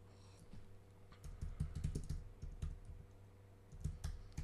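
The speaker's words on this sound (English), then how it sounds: "Let's just type that in." Fast typing on a computer keyboard, clattering keystrokes in irregular bursts close to the mic with short pauses between, no voices present.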